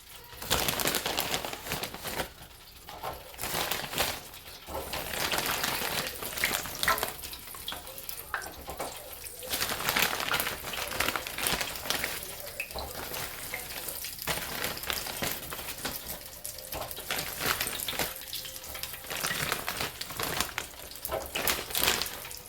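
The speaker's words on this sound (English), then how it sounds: "With the onion rings, they're already like pre-cooked, so it doesn't take that long for them to fry up" Pre-cooked onion rings deep fry in hot oil, a dense, continuous crackling sizzle with bursts of popping and spitting. The sound runs steadily and fairly close, with no talking.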